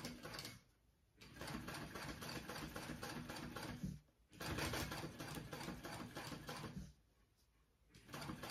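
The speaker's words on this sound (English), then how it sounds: "I'm gonna do two rows of top stitching on that flap." Sewing machine running steady top stitching along a bag flap, close and loud with a fast rhythmic mechanical whir, pausing briefly twice before starting again.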